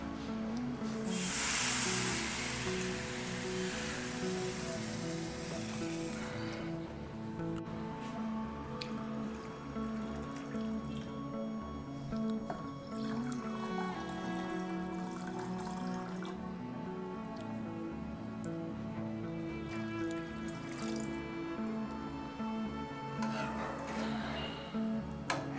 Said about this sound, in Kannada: 1 ಕಪ್ ಹಾಕಿದರೆ ಒಂದು 3 ಗ್ಲಾಸ್ ನೀರು ಹಾಕಬೇಕು.